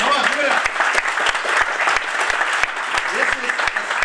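An audience at a Malaysian Universal Health Coverage Day ceremony applauds loudly and steadily, a dense wash of clapping with a few sharp claps standing out and a voice briefly audible beneath it.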